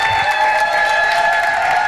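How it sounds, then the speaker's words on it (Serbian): A TV studio audience applauds a singer, a dense, steady wash of many hands clapping with faint crowd noise and a sustained musical tone underneath, loud and continuous for a couple of seconds. "Veliki aplauz za velike zvezde"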